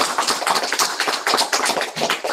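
A seminar audience gives a hearty round of applause to a guest presenter after a design talk; dense, steady clapping from many hands, close and lively throughout without any voices.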